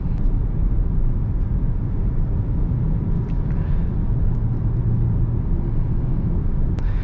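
A Mahindra XUV300 BS6 diesel with AMT gearbox drives on the road, giving a steady low engine drone and tyre and road rumble heard from inside the cabin, with no talking.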